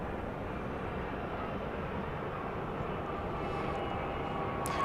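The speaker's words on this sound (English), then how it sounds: "This is a JSX, Embraer 145." A JSX Embraer 145 jet arriving at Dallas Love Field at night, a steady broad engine roar heard from a distance without a break.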